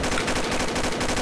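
Gunfire exchange in the video game Combat Arms, with rapid overlapping automatic bursts rattling continuously and loudly for the whole stretch, no voices over it.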